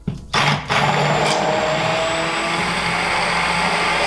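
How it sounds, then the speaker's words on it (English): An immersion blender whirs steadily through jalapenos in cheese and milk, a loud continuous motor hum after a brief start-stop at the beginning. "I just use an emulsifier and get it broken up a little bit"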